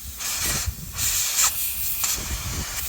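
Air hisses out of an airline fitting on a manual transmission shifter in short, fairly loud bursts with brief pauses between them, close by with no talking.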